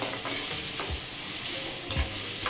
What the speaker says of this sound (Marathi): कांदा चांगला परतूया.